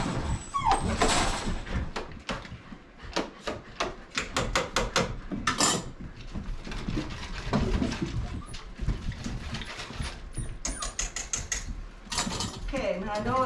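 Puppies whimper, yip and bark excitedly at feeding time while wet and dry food is mixed with milk, a busy overlapping chorus of high cries close by, with a voice calling to them.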